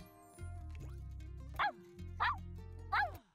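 A dog named Meatball lets out three sharp, high yips in quick succession, close by, over a low droning hum that starts and stops in the background.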